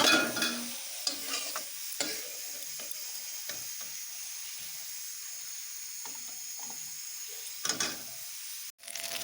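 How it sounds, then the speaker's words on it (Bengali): Cauliflower fries lightly in a pan with a soft, continuous sizzle, broken by repeated scraping and stirring knocks from a utensil, close up and without any talking. "এই দেখো, ফুলকপিটাকে আমি হালকা হালকা ফ্রাই করে নিচ্ছি"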